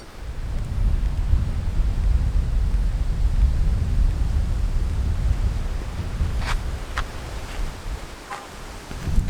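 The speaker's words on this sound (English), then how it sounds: "it is windy. I apologize if my wind buff isn't helping very much" Outdoor wind buffets the microphone with a steady, low, rumbling roar that runs throughout, joined by a few faint clicks toward the end.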